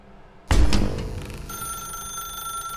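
A telephone rings in The Stanley Parable: Ultra Deluxe. One loud, sudden bell burst is followed by a sustained, fading electronic tone.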